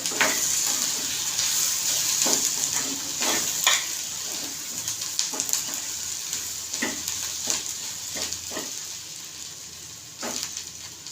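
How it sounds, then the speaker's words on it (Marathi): Ginger, garlic and cashews sizzle in oil in a pan while being stirred, with a steady hiss and repeated scraping strokes close by and no talking. "आणि हे काजू घेतले ते पण एक मिनटं चांगलं हलवून देते त्यामुळे चांगलं हलवायचं"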